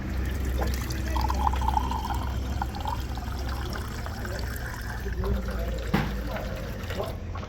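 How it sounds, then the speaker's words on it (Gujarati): Water is poured into a glass indoors, with a soft, continuous liquid splash and trickle heard close by over a steady background hum. "પાછું એક ગ્લાસ પાણીનું પીલું હાલે"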